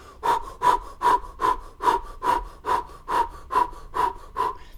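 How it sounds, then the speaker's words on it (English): Rapid diaphragmatic bellows breathing done through the mouth, a steady series of about eleven forceful breaths at roughly two per second, close and alone with no talk. "Just very rapid diaphragmatic breathing."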